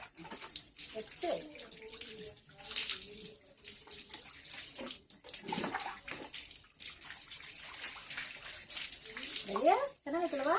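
Warm water splashes and pours steadily while a cat is bathed in a tub, with a voice talking over the running water throughout.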